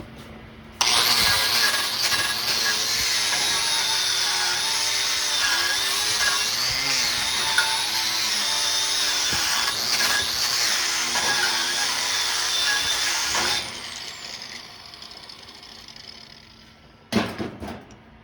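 A 7018 stick welding rod lays a filler bead on a 4G overhead test plate, giving a steady, loud crackling sizzle for about thirteen seconds. It then stops, leaving quieter rustling and one short knock near the end.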